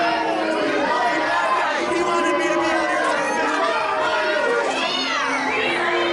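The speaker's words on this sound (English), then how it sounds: "these fans booing the referee's decision" Wrestling show crowd reacting to a referee's decision, a loud, dense mass of voices, shouts and jeers filling the whole stretch, sustained without a break.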